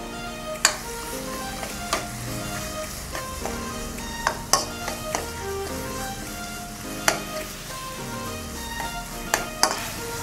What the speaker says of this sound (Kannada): ಮಸಾಲೆ ಸ್ವಲ್ಪ ಫ್ರೈ ಆಗಬೇಕಷ್ಟೇ